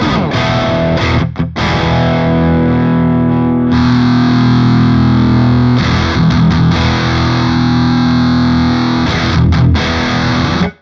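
An electric guitar played through the Polychrome DSP Nunchuck's Metal Charlie amp sim, a heavily distorted tone with sustained chords and short choppy stops near the start and end. Loud and close, no talking.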